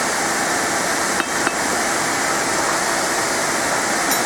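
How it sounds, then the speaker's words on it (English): Blacksmith's hammer striking a hot metal bracelet, two sharp blows landing close together over a constant loud roar of forge noise. "I'm going to hammer it towards me."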